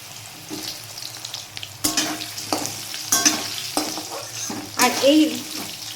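Cut potatoes fry lightly in oil in a pan, a close, continuous sizzle broken by repeated spatula scrapes and knocks as they are stirred.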